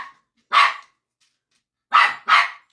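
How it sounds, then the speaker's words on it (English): A pet dog named Bella barks three times in short, loud bursts, one near the start and then a quick pair about a second and a half later, with quiet gaps between and no talking. "Hold on, we're gonna pause because I gotta shut my dog up"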